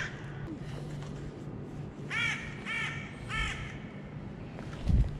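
Crows caw from a tree line, three or four clear calls in a quick series at moderate distance, over steady outdoor background noise.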